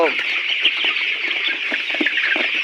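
Layer pullet chickens crowd together at feeding time on a farm, a dense chorus of clucks and squawks filling the space continuously and loudly, with a person speaking over the flock.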